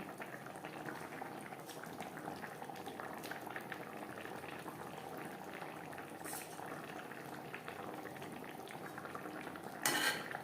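Fish curry with brinjal and other vegetables simmers in its gravy, a faint, steady bubbling of a pot on the stove, with a brief clink of a utensil near the end.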